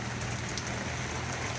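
Steady rain falls outdoors on a rural property, a dense even hiss with close patter filling the whole moment, no voices.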